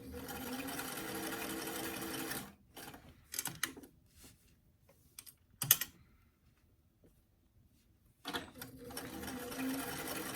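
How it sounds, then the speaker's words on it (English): A sewing machine stitches down both sides of a small doll dress, a steady close run for over two seconds, then a few short bursts and pauses before the motor runs steadily again at the end. "I'm going to sew down both sides, smaller stitch length maybe on this so that the neck doesn't pull"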